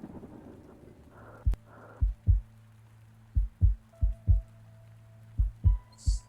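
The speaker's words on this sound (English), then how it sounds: "Somewhat normal heartbeat." A patient's heartbeat during an examination in a horror video game, paired thumps repeating in a steady lub-dub rhythm, close and clear over a low hum, with no talking.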